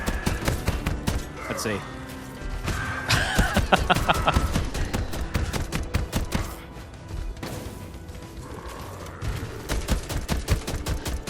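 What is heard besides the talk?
weapon fire and reload grenades in video game Knights Within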